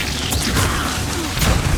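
The Incendio fire spell erupts in Hogwarts Legacy combat, a loud booming burst with crackling, rushing flame noise, close and dense, swelling again near the end.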